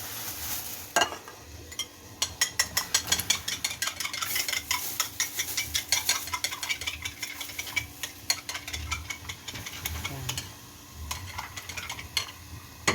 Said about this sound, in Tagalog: Lagyan na natin yung tok.